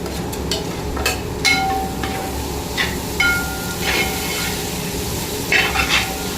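Onions, about three-quarters of a kilo, sauté in a pan for a catering-style chicken roast, giving a steady close sizzle broken by scattered metallic clinks and scrapes of stirring.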